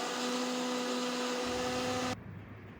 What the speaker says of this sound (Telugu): తర్వాత దీన్ని మనం బాగా మిక్సీ పట్టుకుందాం